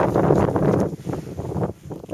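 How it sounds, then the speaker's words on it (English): Wind gusts buffet the microphone outdoors at a shooting range, a rough, rumbling roar that swells and dips over a couple of seconds. "And of course, just as we start, the wind picks up. Getting kind of windy"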